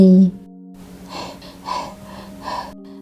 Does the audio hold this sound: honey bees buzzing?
no